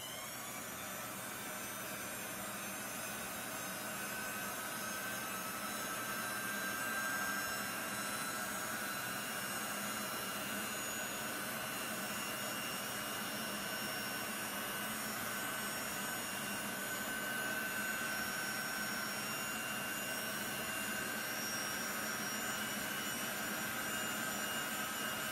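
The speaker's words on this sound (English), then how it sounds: "this is my heat gun, and I'm just going to use my heat gun and dry this off real fast" A heat gun blows continuously to dry chalk paste on a chalkboard, a steady, close whooshing roar that holds at an even level for the whole stretch with no talking.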